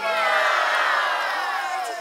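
A crowd cheers and whoops at an indigenous folk dance festival in Kaohsiung, Taiwan, a loud, sustained burst of many voices lasting the whole moment.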